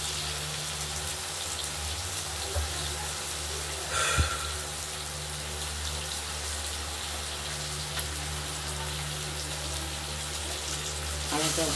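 Potatoes fry in hot oil for a katla fish curry, giving a steady, even sizzling hiss throughout, broken by one brief clunk near the middle.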